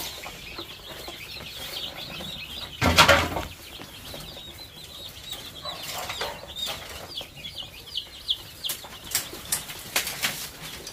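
Chickens flapping their wings, with one loud close flurry of beating wings followed by scattered softer flaps and clucking from the flock around.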